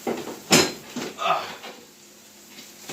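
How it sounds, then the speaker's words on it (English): A seared chili pot going into the oven: a sharp metallic clunk of the pot against the rack, then lighter scrapes and a softer knock, close and brief. "I'm going to put that in the oven"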